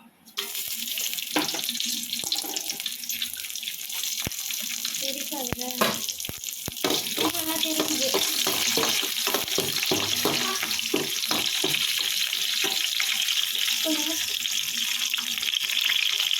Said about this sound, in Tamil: அதுக்கப்புறம் நம்ம பட்டை இலை எடுத்து வச்சுருக்கோம்ல, அதை இப்போ நம்ம சேர்க்க போகிறோம்.